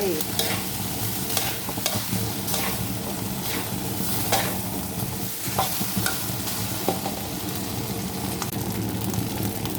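Shrimp fried rice stir-fried in a hot pan, with a steady loud sizzle broken by repeated scraping strokes of the spatula at an irregular rhythm, close and without any voices.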